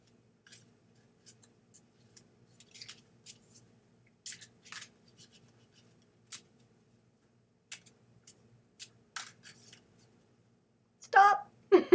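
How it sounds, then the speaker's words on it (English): Playing cards being shuffled by hand, a sparse series of soft, crisp flicks and riffles scattered over several seconds, ending in a louder burst. "I am shuffling."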